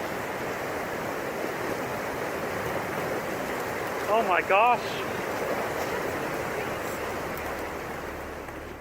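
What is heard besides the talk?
surge of ice and water rushing down a river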